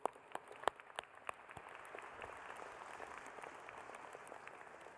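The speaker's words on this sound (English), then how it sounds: "Let's applaud Liz." Audience at a university commencement ceremony applauding an honoree, a few sharp individual claps at first swelling into steady, fairly distant applause from a large crowd.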